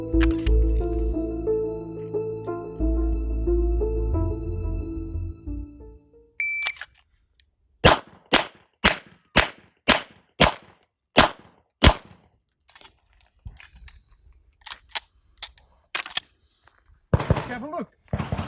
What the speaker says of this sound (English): We'll have that good, precise shot.